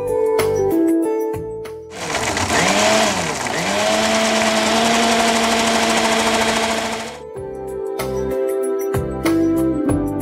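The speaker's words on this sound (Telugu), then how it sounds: "ఒక ఐస్ క్యూబ్ వేసేద్దాం. నేను ఇప్పుడు మనం దీన్ని మిక్సీ పట్టేసుకుంటాం." An electric mixer grinder blends thandai with ice cubes in a loud, steady whirring roar that lasts about five seconds and slightly changes pitch as it runs. Quieter music plays before and after the blending.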